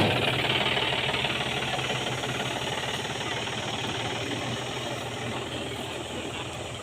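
A tractor-powered chaff cutter chops fodder for cattle on a farm: a loud, continuous mechanical drone with a rapid knocking engine rhythm, steady throughout and slowly fading slightly, with no talk.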